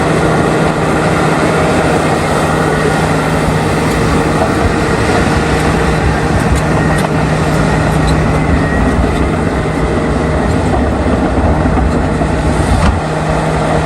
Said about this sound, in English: engine inside the Caterpillar D9T Bulldozer delivers massive horsepower, allowing it to keep pushing heavy material